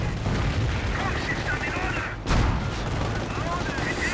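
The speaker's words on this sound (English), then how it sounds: "Sherman actually getting off some good shots on the Stook, even the Hellcat does" Sherman and Hellcat tanks fire in a video game battle, their heavy booming shots and scattered gunfire rolling under a steady voice commenting throughout.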